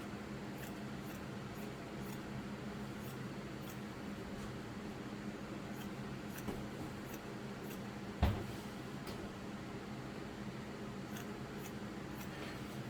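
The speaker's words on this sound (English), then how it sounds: "now we're just going to go ahead and cut to the other one." Sharp scissors cut through T-shirt fabric with soft, repeated snipping strokes over a steady background hum, plus one louder thump partway through, with no speech.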